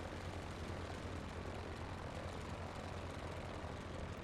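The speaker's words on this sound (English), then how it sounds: "this helicopter here just landed" A helicopter in Microsoft Flight Simulator gives off a steady, loud, unbroken engine and rotor drone with a low throbbing pulse, heard alone without talk.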